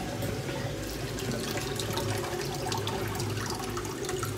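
Water draining steadily through an aquarium top filter after the pump loses power, a continuous close rushing and trickling with no break.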